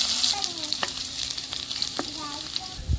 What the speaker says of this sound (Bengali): তেল গরম হয়েছে, এখন দিব গোটা জিরা, শুকনো লঙ্কা, তেজপাতা হাফ করে কাটিয়ে নিছি